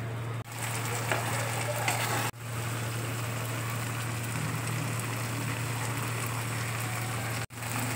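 An egg fries in butter in a pan, a steady, moderate sizzling hiss over a low hum, broken by a few abrupt dropouts, with no one talking.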